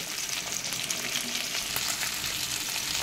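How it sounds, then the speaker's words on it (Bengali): Steady, dense sizzling of mourola fish frying in hot oil, a continuous crackling hiss close by with no talking. "অল্প অল্প করে আমি এইভাবে মাছগুলো ভেজে নেব"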